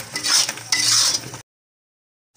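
A utensil scrapes and stirs okra masala in a pan, two short bursts of clattering, scraping strokes close up, followed by silence.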